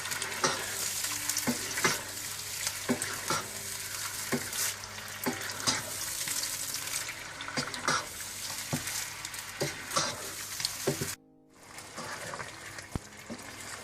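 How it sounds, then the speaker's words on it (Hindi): Chicken with ginger-garlic paste stirred in a frying pot for biryani, with steady sizzling under repeated scraping clinks of the spoon against the pot, briefly cutting out near the end before the frying resumes. "और चिकन के साथ ही आपने अदरक लहसुन पिसा हुआ डाल देना। और इसको अच्छी तरह से आप मिक्स कर लें।"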